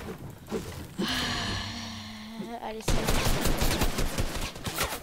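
Video game gunfire as enemies are shot: a brief sustained tone gives way to a dense, loud stream of rapid shots filling the second half.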